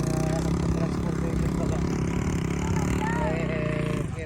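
Motorcycle engine labouring in soft sand at Mount Pinatubo, a steady nearby drone with shifting pitch under continuous talk.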